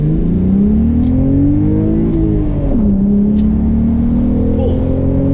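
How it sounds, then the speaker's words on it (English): A VR6 car engine revs up and down, its rising and falling whine loud and close, settling into a steady drone after a couple of throttle blips. "a VR6 has definitely got that noise"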